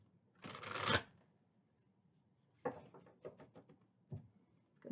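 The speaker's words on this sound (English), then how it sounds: "Two quick shuffles here." An oracle card deck shuffled in two quick bursts, a loud riffle first and then softer scattered card flicks and taps nearby.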